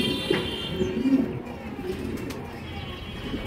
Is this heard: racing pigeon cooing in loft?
yes